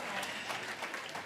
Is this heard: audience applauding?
yes